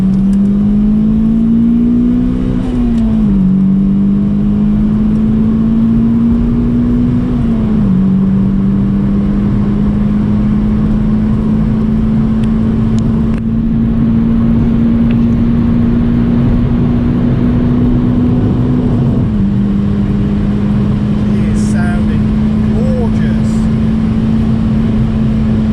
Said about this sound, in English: We've already had some big noises out the engine.